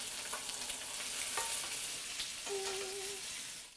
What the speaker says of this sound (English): once it starts to brown, it will release itself